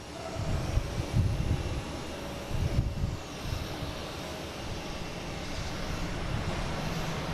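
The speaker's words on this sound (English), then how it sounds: "Next taking off, we have a Austrian Airlines heading to Vienna. 767-300, flight 32." An Austrian Airlines Boeing 767-300 takes off from Boston Logan bound for Vienna, its engines a steady, moderately distant roar with low rumbling surges, no voices over it.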